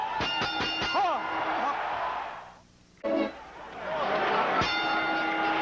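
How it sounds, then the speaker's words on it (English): A boxing bell rings to start round 2 of a 1986 Mike Tyson fight, with several bright clanging strikes near the start and another near the end over a crowd's noise and an announcer's talk. "We bring you back for round 2, and you hear the bell."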